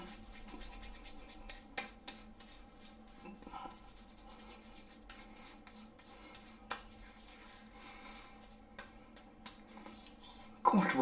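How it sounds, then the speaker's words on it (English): A brush rubs Nivea Sensitive Pro Ultra Calming liquid shaving cream into the face, a soft continuous bristly scrubbing with occasional sharper strokes and a louder burst at the end. "I'll get the cream rubbed in now"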